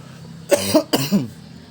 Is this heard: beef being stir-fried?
no